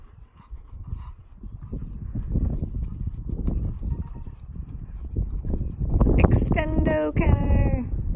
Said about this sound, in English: Counter canter again, Trixie.